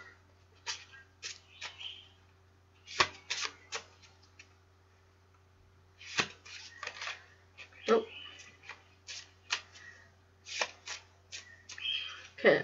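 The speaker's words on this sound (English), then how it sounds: "I'm gonna shuffle them now." A deck of playing cards being shuffled at close range, with several bursts of rapid riffling and softer handling clicks between them, over a steady low hum with quiet breathing.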